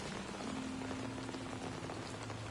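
Steady rainfall in a Batman video game's Crime Alley, a dense, even hiss of drops hitting surfaces that continues without a break, with a faint low tone running beneath it.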